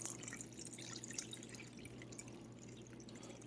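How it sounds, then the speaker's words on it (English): Water running into a pot of homemade dog food, a steady close trickle and drip with a low hum underneath, continuous and fairly quiet with no talking. "I'm putting 4 cups of water in here"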